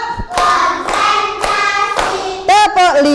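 Classroom clap cheer with a group of students clapping in counted rhythmic bursts, sharp close hand claps spaced in short groups, ending in a quicker double clap, with a voice chanting along between the claps.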